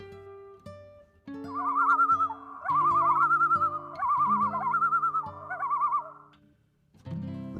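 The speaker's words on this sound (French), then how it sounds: "L'oiseau tokolou a alors émis son cri d'alerte et s'est envolé." A tokolou bird gives its alarm call: bursts of warbling, trilling cries repeated over a sustained musical backdrop, fairly loud, before the sound fades out.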